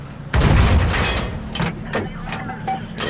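A heavy tank cannon booms once in World of Tanks, firing from an AMX 50 Foch 155 tank destroyer: a loud, sharp blast with a rumbling tail. Smaller bursts and game effects follow at a distance.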